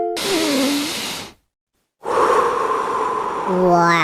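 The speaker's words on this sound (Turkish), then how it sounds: "Şimdi derin bir nefes alın." A long, deep breath is drawn in, loud and close, then after a short pause another airy breath with a breathy voiced tone follows, as in an animated children's lesson.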